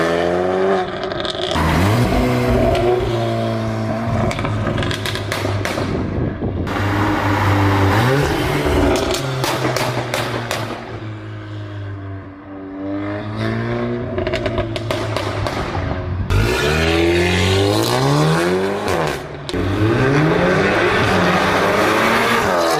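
A Volkswagen Golf R MK8 with a Stage 2 tune launches hard and accelerates, its engine revving up loudly through repeated gear changes with brief pauses between pulls, close and dominant for the whole stretch.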